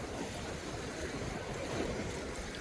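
Sea waves washing onto a beach on Mallorca, a steady broadband wash of surf with wind noise on the microphone, continuous and fairly close with no voices.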